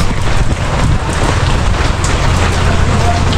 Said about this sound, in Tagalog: Bagay sa lakas ng ulan